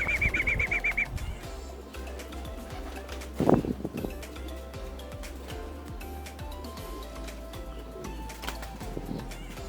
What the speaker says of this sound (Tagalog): Dumating yung pang-dosing ibon natin ng